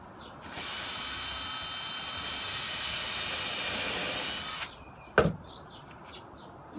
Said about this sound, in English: And I'm countersinking these holes.